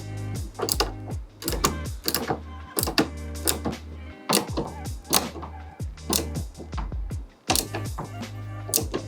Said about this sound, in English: Keep on squeezing tool handles until it releases automatically.